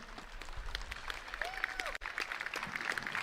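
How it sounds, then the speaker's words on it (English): Crowd applause at a Formula Student acceleration event, a faint steady wash of distant clapping with scattered sharper claps, continuous throughout under ambient noise. "I hear a big applause here."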